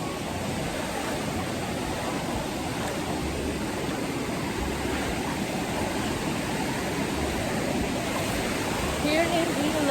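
Rushing river water flows steadily around people wading through a cold mountain river, a broad constant wash with a faint splash or voice near the end.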